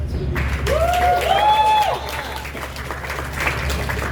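Audience clapping at the opening of a music festival concert series, a brief steady patter of hands with a whistle-like tone rising over it midway, fading slightly toward the end.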